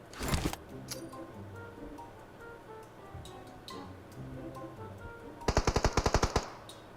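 Gunfire in the mobile battle-royale game PUBG Mobile: a loud burst at the start, scattered distant shots through the middle, then a sharp rapid automatic burst of about ten rounds near the end, over game ambience.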